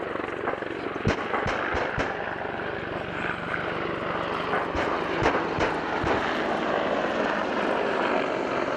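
A pair of Apache helicopters fly at the RIAT 2015 Fairford airshow. Their loud, continuous rotor and engine roar carries sharp, scattered bangs from a simulated rocket attack.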